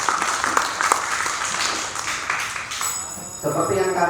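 Audience applause for a sponsor at a Wayang Kulit leather-carving training event held in a public pendopo hall, scattered clapping of moderate loudness, with a ringing tonal sound entering near the end.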